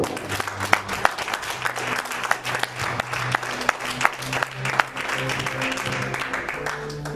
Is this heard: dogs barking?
no